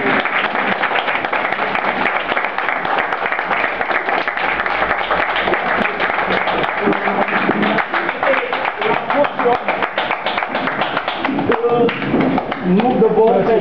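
Standing applause by supporters acclaiming a motion of support at a press conference, continuous dense clapping from a crowd with voices mixed in, loud and sustained throughout.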